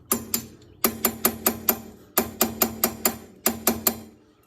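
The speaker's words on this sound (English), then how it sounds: "I'm going ahead and loosen that pin, but I'm not taking it all the way out" A hand ratchet loosens the brake caliper pin on a 2021 Outlander, clicking in quick bursts of four to six sharp metallic ticks separated by short pauses, close up and with no voices.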